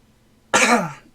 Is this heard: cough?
yes